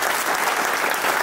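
Audience applause for elected officials at a Diwali celebration at Naperville City Hall: a short, loud, dense burst of many hands clapping.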